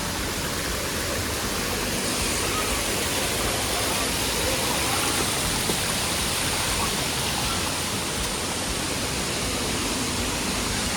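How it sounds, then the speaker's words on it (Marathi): Steady roaring rush of waterfalls pouring inside Krem Chympe cave in Meghalaya, a dense broadband wash of falling water, constant and loud throughout with no break. "सगळीकडून वॉटरफॉल, कुठेही बघा वॉटरफॉल, कुठेही बघा."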